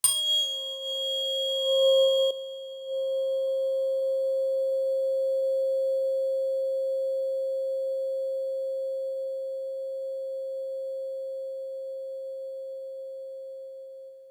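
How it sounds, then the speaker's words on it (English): A steady pure 528 Hz sine tone sounds alone, preceded by a brief higher harmonic-rich onset, then holding level and slowly fading toward the end. "528 Hertz."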